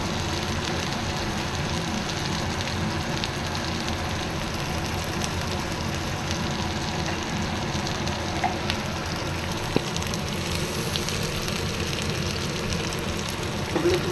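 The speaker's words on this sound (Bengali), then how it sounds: "হলুদ গুঁড়োটা দিয়ে ভালো করে আবার কষিয়ে নেব" Turmeric powder and spices sizzle in a hot pan with green chilli, ginger and garlic paste, a steady, even crackle that runs unbroken throughout with no talking.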